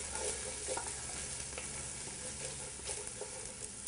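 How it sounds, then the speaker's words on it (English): Garlic and ginger cook in a pot for lentil soup, giving a steady, dense sizzle with faint stirring scrapes throughout. "let the garlic and the ginger cook for, I'd say, just a minute or two, just until all those fragrances get in there"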